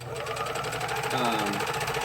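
A serger overlock machine stitches along the edges of an apron in a fast, even whirring rattle. It sounds close and steady, and a person talks over the stitching.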